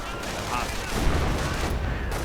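A dense burst of rifle and machine-gun fire in a Company of Heroes battle between Grenadiers, an MG42 and riflemen, a continuous crackling barrage with distant rumbles lasting a couple of seconds.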